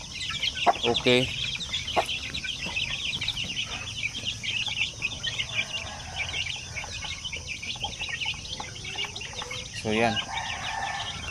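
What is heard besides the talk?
chicks of zampen, basilan and shamo aseel chickens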